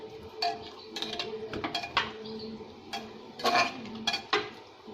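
Roasted peanut powder being mixed into a brinjal and potato curry in a pot, with a run of close metallic spoon scrapes and clinks against the vessel at an uneven rhythm, no talking.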